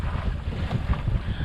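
A sailboat under way in steady wind off the rocky coast of Maine, with continuous wind buffeting the microphone and the rush of water along the hull, fairly loud and unbroken throughout.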